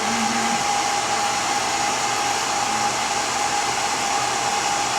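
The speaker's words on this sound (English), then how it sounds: "You're keeping the heat gun mostly on the lower part." Heat gun blowing steadily on the lower part of a pottery piece at a workshop, giving a loud, continuous close roar and whine throughout with no break.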